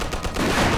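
A short, loud burst of machine gun fire in the video game Mafia, rapid close shots running together in under a second.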